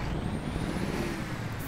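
A tuned Mercedes-Benz Axor truck in the Euro Truck Simulator 2 game, driving through Minsk, runs with a steady, fairly loud engine drone and a thin high whistle rising slowly above it throughout.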